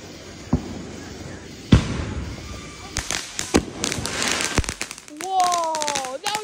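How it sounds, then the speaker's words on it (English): Independence Day fireworks bursting outdoors: sharp loud bangs scattered over several seconds, followed by crackling and a rising whistle, with people's voices around. "Whoa, that was a cool firework."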